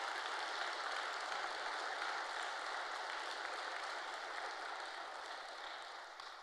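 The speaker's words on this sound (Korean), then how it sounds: "서근옥 권사님께 뜨거운 박수로 맞이해 주시기 바라겠습니다" A church congregation gives a warm round of applause to welcome a guest speaker, a dense, even patter like heavy rain that holds steady for several seconds before tapering slightly at the end.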